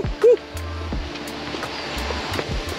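Banyumala waterfall in Bedugul, Bali, a steady, moderately close rush of falling water forming a continuous roar with a brief louder knock near the start.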